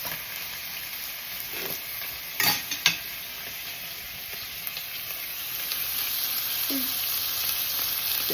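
Onions and Brussels sprouts cooking in a pan on high heat, a soft continuous sizzle with a couple of sharp utensil clinks and scrapes partway through, no one speaking.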